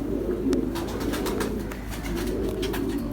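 A female Ferozpuri pigeon cooing close by, soft repeated throaty coos in a steady rhythm, with faint rustling in the background.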